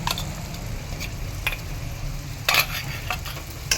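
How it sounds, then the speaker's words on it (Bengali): Onions fry in a pan with mustard-poppy paste as they are stirred, a steady sizzle broken by a few sharp spatula scrapes and clinks, close up and without talk. "এরকম আপনারা নাড়তে থাকুন যতক্ষণ না পেঁয়াজটা বাদামি রঙের হচ্ছে"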